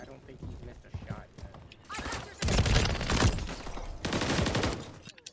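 Bursts of gunfire from a shooting video game, loud and dense with rapid volleys clustering in the second half, layered under ongoing voices.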